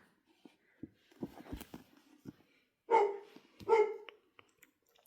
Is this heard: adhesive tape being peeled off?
no